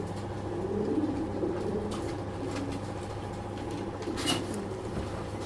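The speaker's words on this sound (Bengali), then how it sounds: "আমি আপনাদের কবুতরটা দেখাচ্ছি" A male racing pigeon gives soft, warbling coos in a few short bursts, close by but faint, over a steady low hum.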